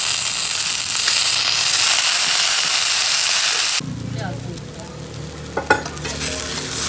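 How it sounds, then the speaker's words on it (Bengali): Vegetable stems and green peas fry in a pan for a Bengali sukto, giving a loud bright sizzle that suddenly drops to a softer crackle with stirring clatter near the end. "ভেজে নেবো, ডাঁটা আর মটরশুঁটি আছে।"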